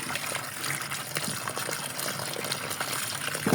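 Cut potato pieces rinsed in water, a steady sloshing and running-water wash with small splashes and clinks, close up and fairly continuous, with a brief sharper knock near the end.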